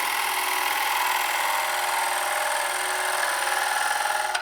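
A sharp gouge makes a slow, methodical undercut into wood spinning on a lathe, a steady close hiss and rumble of the turning and cutting that holds even throughout and tails off at the end.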